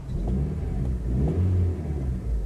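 A Mitsubishi Shogun Pinin engine runs steadily with a low, even rumble and slight rev fluctuations, heard close and alone.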